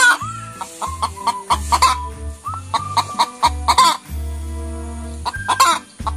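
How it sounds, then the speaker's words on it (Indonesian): A laying hen clucks repeatedly nearby in short, choppy bursts, with a few rising squawks mixed in between quieter pauses. "Wow, ini ayam betina penghasil telur"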